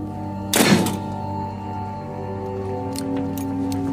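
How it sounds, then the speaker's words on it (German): Weapons dropped onto a floor land in a single loud, close thunk with a short clatter, then fade into a steady background hum. "Ich lasse meine Waffen am Boden fallen,"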